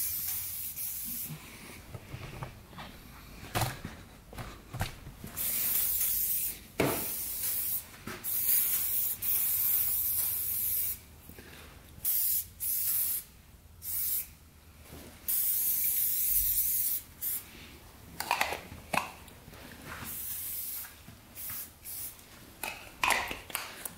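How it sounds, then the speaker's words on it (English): Aerosol spray hisses onto scrap moped parts in repeated short and longer bursts, close and fairly quiet, with pauses between the sprays. "I'll spray the yellow too a little bit."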